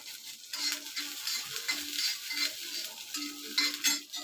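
Cut garlic cloves roasting in a pan as they are stirred, with a soft continuous sizzle and rhythmic spatula scrapes coming every half second or so, close and unaccompanied by speech.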